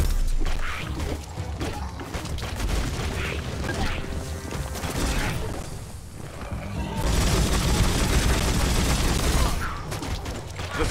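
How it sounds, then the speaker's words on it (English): Gunfire in the video game Biomutant, a dense chaotic barrage of shots, impacts and clanking mechanical noise that swells and fades, loud and continuous with a heavy burst in the second half. "Bullets everywhere."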